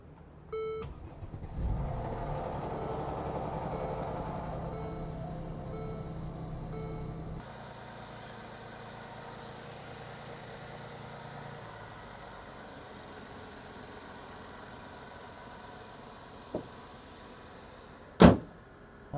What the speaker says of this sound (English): Gonna start this vehicle.